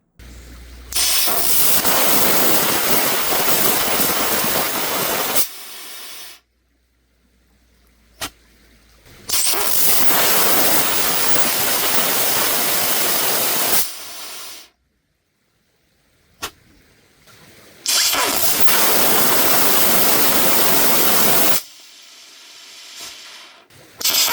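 TSP F35 rocket motors firing on a static test stand, made in June 2023 and April 2024, roar as three loud, steady, hissing bursts of about five seconds each. Short quiet gaps separate the burns, and a sharp crack comes at two of the ignitions.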